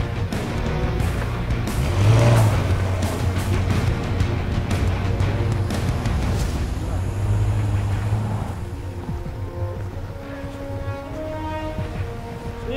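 A Mercedes G63 AMG, stuck in snow, revs its engine in a loud rising and falling roar that settles toward a lower idle, with a voice briefly audible.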